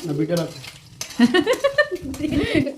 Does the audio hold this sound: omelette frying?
yes